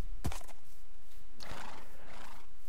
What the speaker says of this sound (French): Oh, des canassons.